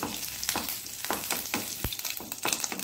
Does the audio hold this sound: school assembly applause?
no